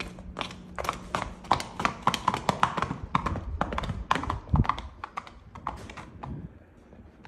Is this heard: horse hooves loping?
yes